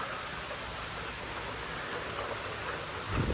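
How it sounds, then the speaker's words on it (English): Rain coming down outside a kitchen window in a new home in Senoia, Georgia, a soft, even wash of noise that stays steady and faint, heard alone without speech. "Wow, look at the rain coming down."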